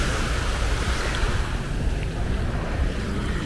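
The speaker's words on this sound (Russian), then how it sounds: "Ой, ну волны так-то приличные." Sea waves rolling onto Patong beach in Phuket, Thailand, at high tide near a boat zone: a loud, continuous wash of surf with wind rushing across the microphone, and no speech.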